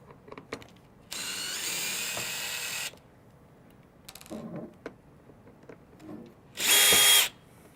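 A power drill backs out two screws from the header deck of a Bestop Trektop Glide soft top, two separate loud whirring bursts, the second shorter and higher-pitched, with quiet handling clicks between them.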